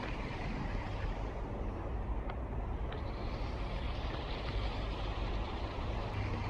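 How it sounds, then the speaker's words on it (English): Steady, dense road traffic near a railway line, a continuous broadband roar of passing vehicles with no gaps, moderately loud and close, no talking. "You can hear the traffic, there's a lot of traffic"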